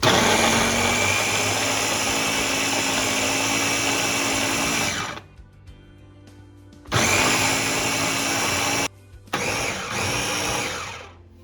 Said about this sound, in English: We blend the potato and onions together.